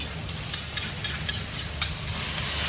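Sauce hitting wok-fried noodles in a wok during a Vietnamese cooking class, giving a steady broadband sizzle with light, irregular scraping and stirring clicks throughout.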